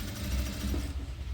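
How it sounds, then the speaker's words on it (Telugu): A sewing machine stitches the frill of a baby skirt, a brief, close, steady motor hum that runs for about a second before cutting out. "ఇలా లాక్కుంటా స్టిచ్ చేయండి."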